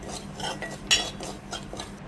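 Roasted semolina, browned in a pan for sweet sheera, is scraped and spooned into a dish, with a few close metallic scrapes and clinks of utensil against cookware and one sharper knock.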